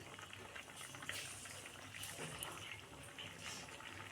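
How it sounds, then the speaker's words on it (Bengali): Chicken stew bubbling steadily in a pot, a continuous soft gurgle and crackle of boiling broth heard up close, with no talking over it. "খুব সুন্দরভাবে কিন্তু চিকেন স্টুটা ফুটছে"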